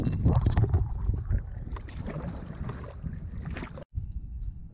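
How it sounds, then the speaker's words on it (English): Wind picking up on a lake during a spring canoe trip in Algonquin, steady buffeting noise at the microphone with splashing from the canoe, fairly loud and continuous. "the winds are of course starting to kick up right now"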